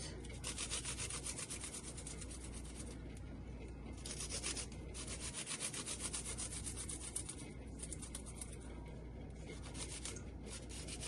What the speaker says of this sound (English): So I have 3 pegs that I will grate onto my meat